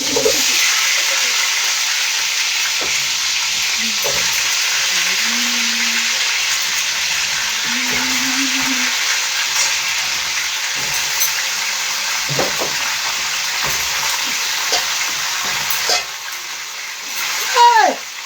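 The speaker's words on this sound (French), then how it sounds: "je mets alors maintenant les pommes dans l'huile" Apples frying in hot oil for a Welsh-style dish, a steady broad sizzle running throughout with faint stirring and clatter, while voices talk intermittently over it.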